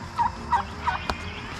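Farm turkeys gobble in three or four short bursts, moderately close, against a low background hum and with no talking.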